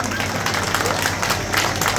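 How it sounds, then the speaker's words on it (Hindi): An audience applauding loudly, a dense, steady wash of clapping with faint crowd murmur throughout. "एक बार जोरदार ताली बजाओ।"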